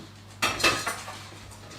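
A metal saucepan and utensils clatter and clink close by, a few quick knocks followed by softer scraping, with no talking.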